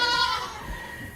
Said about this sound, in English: We're going to go see the big goats.